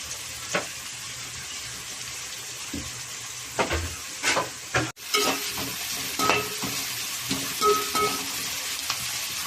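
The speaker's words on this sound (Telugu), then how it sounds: "ఉల్లిపాయలు వేగాలి కొంచెం ఎరగా వచ్చేటట్టు వేసుకోవాలి" Onions and green chillies frying in a pan for a fish curry, a steady sizzle broken by repeated scraping stirs and occasional clinks of the utensil, close and moderately loud, with no talking.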